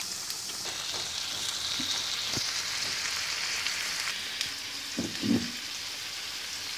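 Eggs go into seafood fried rice in a hot pan, giving a steady hiss and sizzle with a few soft clinks and a brief louder spatter near the end.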